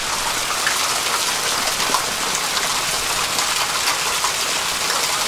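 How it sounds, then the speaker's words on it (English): Hail falling in Los Angeles, a dense, steady patter of many small pellets striking surfaces nearby, continuous and fairly loud with scattered sharper hits and no talking. "it is legit hailing in Los Angeles"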